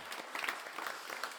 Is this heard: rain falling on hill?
no